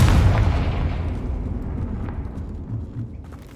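Confringo fire spell blast in the Hogwarts Legacy video game: a loud, deep booming explosion that hits at once and rolls off into a long rumbling decay, with no voices.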